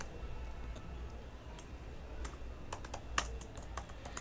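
Computer keyboard typing while entering a category name in a PHP and MySQL e-commerce admin panel: quiet, close, irregular key clicks with a few sharper taps, no talking.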